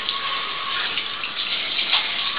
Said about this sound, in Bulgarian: Пускам душа и ги къпя.